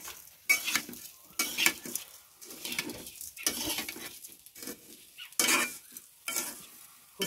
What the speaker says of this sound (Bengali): সেজন্য ভালো করে এটা ভেজে নিচ্ছি।